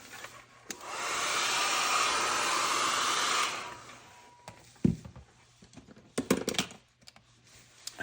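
A hand-held dryer blowing to dry a mixed media paint layer, a loud steady whooshing whir for about three seconds that cuts off, followed by scattered clicks and taps of art supplies.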